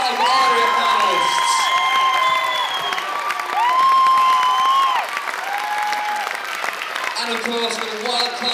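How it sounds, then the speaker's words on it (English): Open mic audience in the UK applauds and cheers for a panel of five judges, steady dense clapping with whoops and shouts throughout, loud and close, with a few shouted voices rising above the crowd. "round of applause please for all of our five area panelists."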